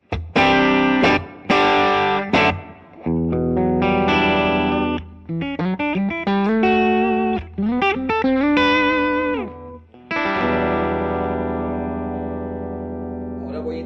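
Electric guitar plays chords and short riffs with a bright, slightly driven tone, clean straight into a Boss IR-2 amp simulator pedal, ringing sustained notes between choppy bursts.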